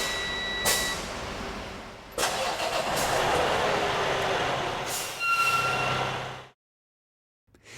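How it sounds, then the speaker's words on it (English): A Ryder rental truck engine cranks and fires up, a loud broadband rumble that starts abruptly, runs steadily for a few seconds with a brief pause and restart, then cuts off sharply into near silence; no talking. "Depress both the brake and clutch pedals and then start the vehicle."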